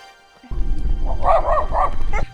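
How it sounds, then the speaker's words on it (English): A pack of many dogs barks in a burst near Uvac in Serbia, several yaps overlapping over a rumbling background, close and fairly loud, with no talking. "There's so many dogs."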